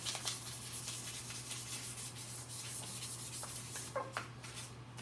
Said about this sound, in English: So I'm going to go at it with 800 grit right now, just to make sure.